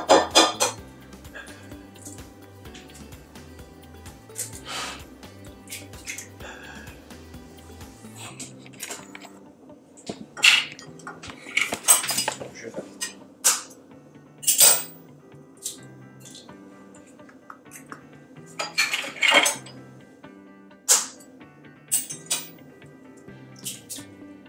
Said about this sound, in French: on va casser les œufs